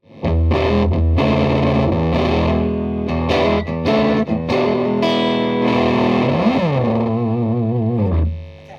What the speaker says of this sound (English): and here we have the Jimi Hendrix Fuzz.